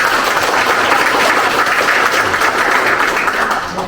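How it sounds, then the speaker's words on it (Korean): Hall audience applauds at a Korean inauguration ceremony, loud, dense clapping sustained throughout and tapering slightly at the end. "우리 홍대수 교수님께 박수 부탁드립니다."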